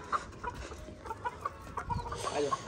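Chickens cluck in short, scattered calls on a farm, mixed with background voices and movement while an animal is being bathed nearby.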